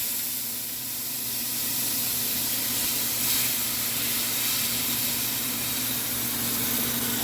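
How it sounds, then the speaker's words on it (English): Chicken broth sizzles and hisses steadily in a hot skillet as the pan is deglazed, a continuous broadband frying spray at moderate level with a low steady hum beneath, no talk. "It's gonna sizzle."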